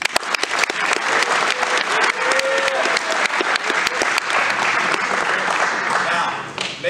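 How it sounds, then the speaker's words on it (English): A crowd applauds an athlete with dense, loud, sustained clapping that holds steady for several seconds, with scattered sharper claps standing out near the front and a voice briefly audible underneath. "don't forget to clap for him"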